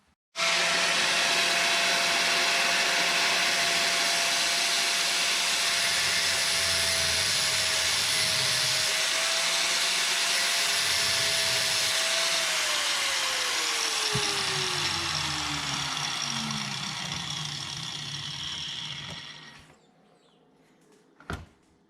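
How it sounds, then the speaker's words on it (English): A power grinder works a metal slasher shaft, cutting it to length during a slip-joint repair on farm equipment; a loud, steady whine runs continuously for about nineteen seconds, its pitch dropping as the cut finishes, then it spins down to near silence. "So we'll do some grinding and filing and try and get it to fit"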